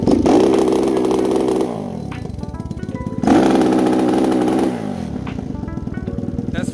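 A Lifan KP Mini 300 motorcycle with a ZS175FMN four-valve engine revs hard at full throttle in two loud, close surges, each easing back to a lumpy, popping idle between them.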